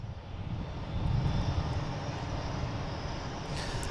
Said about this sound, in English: we have American Airlines lining up on 33. It's a 777.